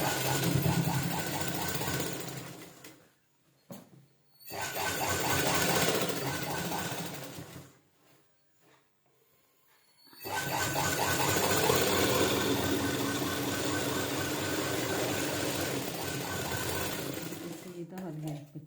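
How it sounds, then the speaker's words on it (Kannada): A sewing machine stitches a lining blouse in loud close bursts of rapid mechanical whirring, twice stopping briefly for silent pauses before running on at length. "ಸೀದಾ ಹೊಲಿಗೆ ಹಾಕಬೇಕು."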